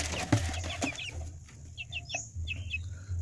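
Several seven-week-old joper chickens cluck and chatter nearby in short, repeated calls, with a few louder squawks among the softer clucks.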